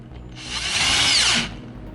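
A Ryobi cordless drill drives a lag screw in one short, loud burst, whirring up, straining through the wood and spinning down within about a second.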